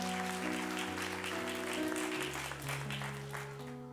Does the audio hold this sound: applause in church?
yes